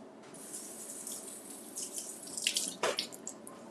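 Tap water runs steadily into a kitchen sink while fresh cilantro is rinsed under it, a soft continuous hiss with brief louder splashes as the leaves are moved through the stream.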